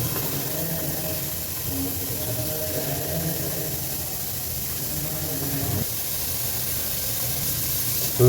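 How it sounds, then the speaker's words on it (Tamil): Onions frying in oil in a pan for chicken biryani give a steady, continuous sizzle and hiss, close and even throughout with no talking. "ஆயில் ஊற்றி இது வெங்காயம் போட்டுறேன்"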